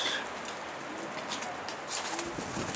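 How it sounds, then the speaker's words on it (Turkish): A flock of released pigeons circles overhead, giving a faint, steady outdoor wash of fluttering wings with soft cooing and scattered bird calls. "Görmüş olduğunuz gibi her yer kuş oldu."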